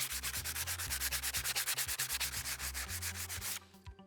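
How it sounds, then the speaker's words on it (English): Steady back-and-forth sandpaper, clamped to a stick, scraping on a wooden axe handle, a fast rhythmic rasp repeated many times, close and loud, ending abruptly. "it's time to clamp the stick with the sandpaper and start sanding"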